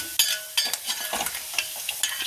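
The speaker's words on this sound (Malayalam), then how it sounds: "അത് ഇഞ്ചി വറുത്തെടുത്ത എണ്ണയിൽ തന്നെ അത് വറുത്ത് കോരുകയാണ്" Coconut pieces frying in hot oil already used for frying ginger, with a bright crackling sizzle, interrupted by repeated scraping stirs of a spoon in the pan.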